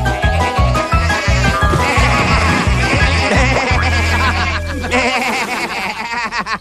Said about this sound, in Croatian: Te šašave ovce.